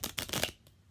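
Tarot cards shuffled in quick riffling bursts, several rapid papery flicks in close succession ending in a soft tap, near and fairly quiet.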